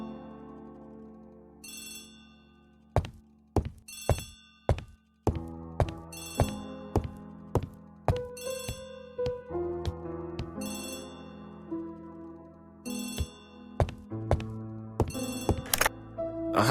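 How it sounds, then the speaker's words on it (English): An old telephone rings in repeated short bursts of bright trilling, mixed into a busy tonal background of plucked and struck notes. "Poirot, the telephone."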